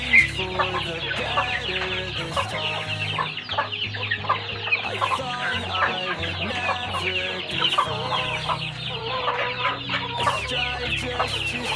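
Laying hens in a rural Philippine yard cluck steadily and close by, a dense overlapping chorus of short calls with occasional louder squawks, continuing throughout without speech.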